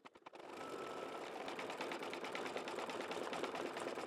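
An embroidery machine sews a dense satin stitch, starting with a few clicks and then settling into a rapid, steady mechanical whirring hum heard close by.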